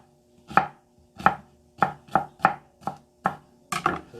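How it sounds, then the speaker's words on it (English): A knife chops an onion on a board for homemade spaghetti sauce: eight crisp, close strikes in an uneven rhythm, each a sharp thunk with a brief crunch, separated by near silence. "let's go ahead and just chop the onion up"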